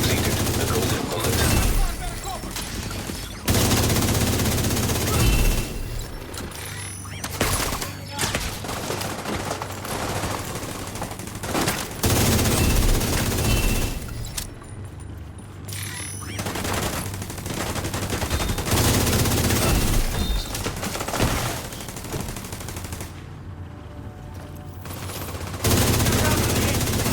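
Bursts of gunfire rattle through a shooter video game during a bank headquarters raid, with fusillades and machine-gun volleys coming in waves, broken by brief lulls, while a player's voice talks over the shooting.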